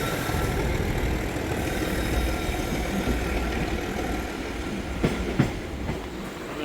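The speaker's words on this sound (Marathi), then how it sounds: "CST आलेली आहे, ट्रेन्स लागलेल्या आहेत" Trains standing at the platforms of Mumbai's CST railway station at night, heard as a steady, loud rumble with a few short metallic knocks near the end.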